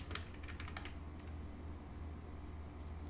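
Rapid keystrokes on a computer keyboard, clicking in quick bursts early on and then thinning out over a steady low hum, with no talking.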